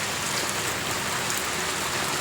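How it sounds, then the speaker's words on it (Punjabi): Heavy night rain pours down in a steady, dense, unbroken hiss that fills the whole stretch, with no voices over it. "ਹੁਣ ਵੀ ਬਹੁਤ ਜ਼ਿਆਦਾ ਮੀਂਹ ਪੈ ਰਿਹਾ"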